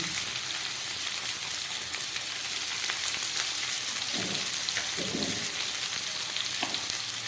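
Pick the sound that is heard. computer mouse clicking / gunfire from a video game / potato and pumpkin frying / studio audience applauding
potato and pumpkin frying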